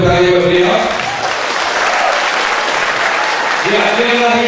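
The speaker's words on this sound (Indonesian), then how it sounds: "Ya, boleh tepuk tangan buat beliau." An audience at an international seminar applauds to welcome a speaker, with a burst of dense clapping between stretches of a voice speaking over a microphone.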